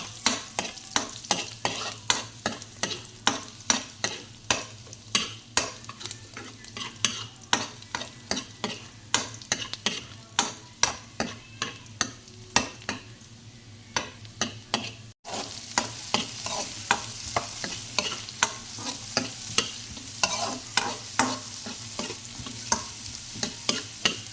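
Garlic and chicken are sautéed for chicken pasta, sizzling steadily in a hot pan while a utensil scrapes and stirs in quick repeated strokes close by, with no talking.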